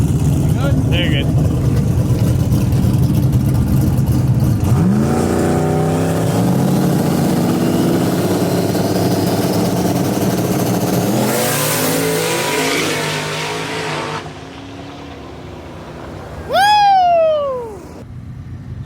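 A 1400 horsepower turbocharged Pontiac Trans Am F-body drag car roars and revs loudly at a street car takeover, engine note climbing through gears, with crowd voices and talk underneath and a sharp rising whine near the end.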